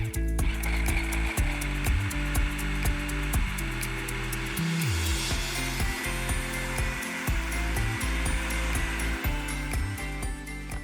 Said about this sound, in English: I'm just going to start blending so all of that feta combines with the herbs